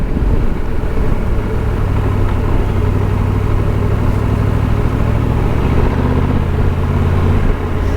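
The engine of a Triumph Tiger 1200 GT Pro motorcycle, lugging and knocking at low revs, makes a loud, close, steady rumble that fills the whole stretch with no voices.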